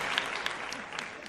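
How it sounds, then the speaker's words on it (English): A short burst of clapping, like a small crowd applauding on a podcast, lasts about a second at moderate volume and then fades out. "Y'all give Britt some claps in the chat."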